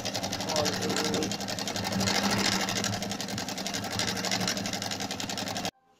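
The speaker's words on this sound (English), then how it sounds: "I'm going to just continue stitching all the way." A sewing machine stitches a sponge bag for a cushion, running in a steady rapid mechanical rattle, close and continuous, before stopping abruptly at the end.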